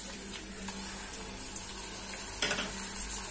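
Ginger-garlic paste hits golden-brown onions in hot oil and fries with a continuous close sizzle, soft stirring scrapes, and a brief louder crackle near the end.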